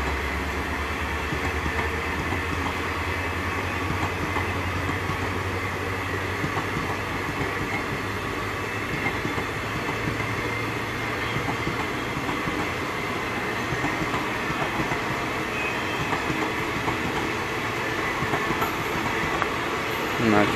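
A passenger train rolls past at close range, a steady loud rumble with rhythmic clickety-clack of wheels on rail joints continuing throughout, with no talking over it.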